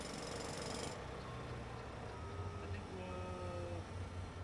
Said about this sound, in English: this specially outfitted skid steer hammers out concrete along the